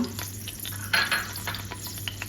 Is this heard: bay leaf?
yes